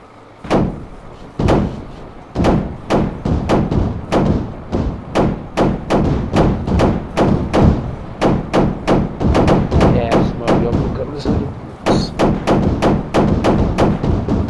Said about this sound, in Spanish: Nos vamos a alejar para realizar detonación de la explosión